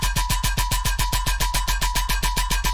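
A Metallic Steel synth preset in Phase Plant pulses in a fast, even rhythm of bright, clangy metallic hits over a steady tone, loud and alone.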